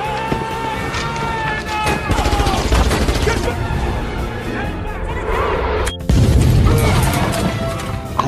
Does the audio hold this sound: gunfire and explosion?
yes